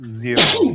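A single short human sneeze, close and loud, with a brief breathy intake before the burst.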